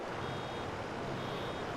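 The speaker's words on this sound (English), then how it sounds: "When you hear the buzzer go" Baler buzzer in Farming Simulator 22 while making silage bales, a steady electronic tone held for the whole moment over a continuous engine-like rumble, even and moderately loud.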